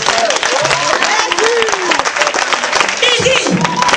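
A congregation at an evening church vigil bursts into loud, sustained applause and cheering, with voices and shouts mixed through the dense clapping of a packed crowd.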